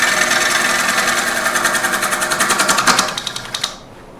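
Wood lathe spinning a cherry bowl blank during roughing cuts, a steady rhythmic chatter with regular tool-contact pulses that winds down and cuts off near the end.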